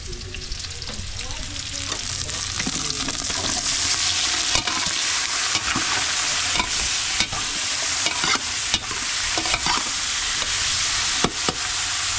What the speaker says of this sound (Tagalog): Ilalagay na natin yung ating chicken.